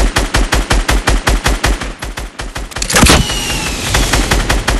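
Rapid automatic gunfire from a Fortnite match, a steady loud burst of evenly spaced shots for about three seconds, then a heavy blast and a denser roar of continued firing.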